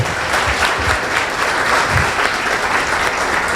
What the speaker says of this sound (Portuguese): eu queria pedir a todos vocês uma salva de palmas bem forte para o Dr. Wagner